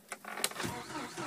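A 1989 Jeep YJ is cranked from cold with the door open: a short burst of starter whir with a couple of sharp clicks, then the engine catching into a rough, steady idle, close and loud.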